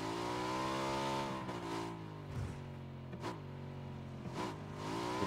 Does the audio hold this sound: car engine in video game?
yes